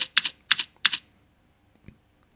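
Keys tapped on a computer keyboard while entering a trading password: three quick bursts of clicks spaced about a third of a second apart, then a single fainter tap, close and clear with no talking.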